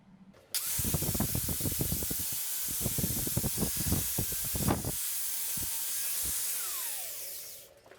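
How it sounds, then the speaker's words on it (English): Welding a mono-shock mount onto an NC50 Express motorcycle: a steady, close electric hiss with irregular crackling pops runs for about seven seconds, then cuts off. "I'll weld that up first."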